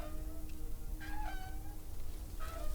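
A cat in the video game Deponia Doomsday gives several short, faint meows spaced across a steady background hum, with no speech.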